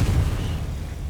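A Confringo spell blast in Hogwarts Legacy, a loud, heavy, low rumbling explosion that starts at full strength and decays slowly over about a second.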